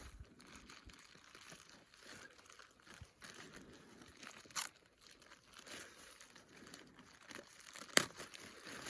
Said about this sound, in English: I take a plastic bag, and I'll put the tail in the bag